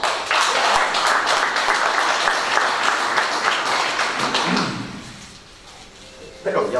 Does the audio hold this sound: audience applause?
yes